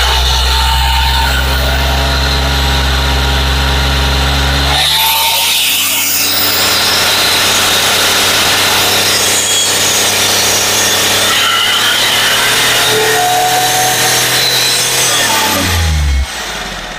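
A Chevrolet Beat diesel engine with a turbo fault and black smoke idles with a steady low hum, then revs up into a loud, sustained roar that holds for about ten seconds and drops back at the end.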